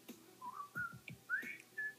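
A person whistles a melody, the tune of The Andy Griffith Show theme, in a few short rising and sliding phrases, close and clear with no talking.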